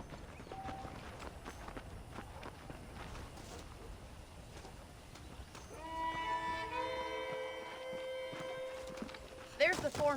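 Horses in the Red Dead Redemption video game: hooves clip-clop in an irregular patter under a man's speech, then a loud drawn-out neigh rings out with clear harmonics, followed by a short snort near the end.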